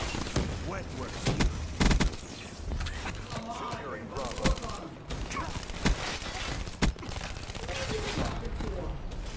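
Bursts of rapid gunfire and mechanical weapon clatter in a Black Ops 3 Domination match, dense and loud amid game effects, with players talking over the action.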